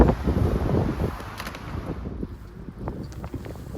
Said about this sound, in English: It's an incredibly windy day